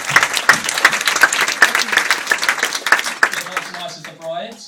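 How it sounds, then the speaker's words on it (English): Audience applause at a wedding reception, a dense burst of clapping from a sizable crowd that carries steadily before thinning out at the end. "so we can give them a quick round of applause"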